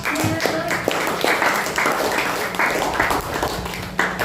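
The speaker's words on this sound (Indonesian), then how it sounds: "tepuk tangan dulu buat kelompok" An audience in a classroom presentation session claps for a presenting group, producing a continuous wash of mixed applause from many hands, moderately loud, with voices mingled in.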